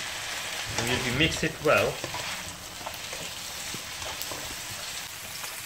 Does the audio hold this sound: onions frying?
yes